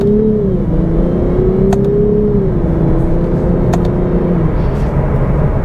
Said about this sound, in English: when it's in drive, even in sport, and you floor it